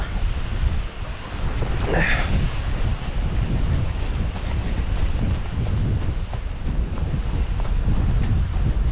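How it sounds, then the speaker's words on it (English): Strong gusty wind from Tropical Storm Nicole roars continuously and loudly across the microphone outdoors, with a brief faint voice early on. "We gotta get out of here, this wind's picking up."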